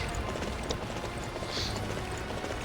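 A generic horse in Dynasty Warriors 9 gallops with quiet, rapid hoofbeats in a steady clip-clop rhythm, faint and set back beneath a dense game soundscape.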